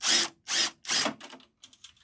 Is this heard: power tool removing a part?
yes